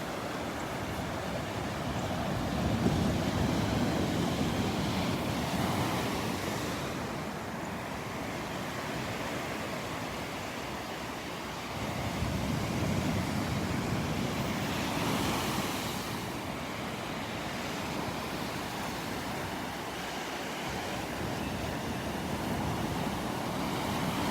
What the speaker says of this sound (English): A nice little sequence of waves coming in, a nice little series.